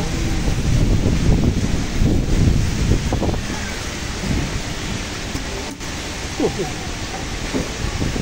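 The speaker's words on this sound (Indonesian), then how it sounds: "anginnya kenceng banget" Strong wind gusting outdoors during rain near an aquarium building, a loud continuous roaring rush with buffeting against the microphone and faint voices underneath.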